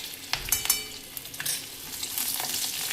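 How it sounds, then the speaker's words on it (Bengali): Bay leaf, cumin, green chili and asafoetida sizzle in hot oil for mung dal, a close crackling fry with sharp pops and stirring clatter over about three seconds. "আর দিলাম তেজপাতা, জিরা, কাঁচা লঙ্কা, আর দেবো হিং।"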